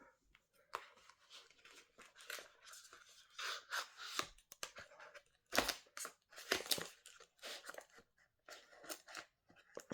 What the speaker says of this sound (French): je vais déjà tout de suite les ciseaux